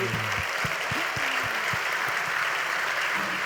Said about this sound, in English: Ladies and gentlemen, a big round of applause for Chris Barton.